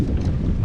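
Gusty wind buffeting a microphone out on a lake while kayak fishing in a tournament, a loud continuous low roar across the whole short stretch.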